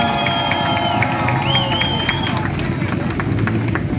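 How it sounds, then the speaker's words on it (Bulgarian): A large crowd at a motorcycle contest claps and cheers continuously, a dense roar of applause with whistles and shouts over steady background noise. "Силни аплодисменти!"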